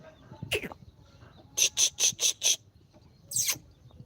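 Chickens and chicks, with a burst of five quick high peeping calls in a row, plus a couple of isolated chirps before and after, near and fairly clear against quiet background.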